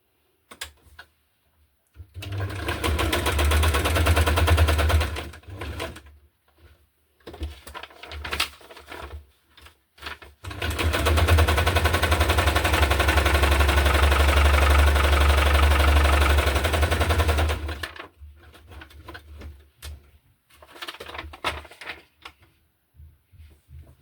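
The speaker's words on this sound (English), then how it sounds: "I will just start off with this, with a zigzag and with a straight stitch, and just sew around all the edges again." A sewing machine runs in two long bursts of steady stitching, zigzag and straight stitch around the edges of a green and blue hardcover junk journal, close and loud with short pauses and small handling noises between runs.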